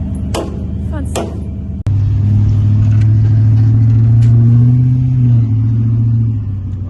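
A 1979 GMC Heavy-Half truck with a salvaged engine sets off on a test drive. A steady, loud low engine drone rises slightly and then eases, heard from inside the cab after a sharp click, with brief voices at the start.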